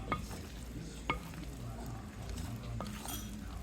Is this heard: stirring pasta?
yes